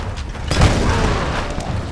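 Barrel explodes in the video game Tomb Raider, a loud deep boom with a rushing burst that swells and then rumbles on steadily over the following second.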